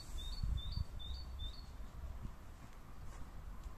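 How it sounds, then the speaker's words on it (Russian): Small birds singing in a garden on a warm sunny day in Jelgava, with a quick run of faint, high chirps early on, then quieter outdoor background with a few low bumps. "Птички поют."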